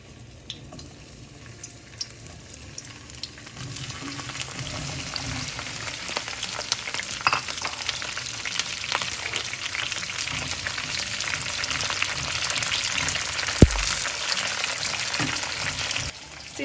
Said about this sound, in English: So I'll go ahead and add these okras in oil.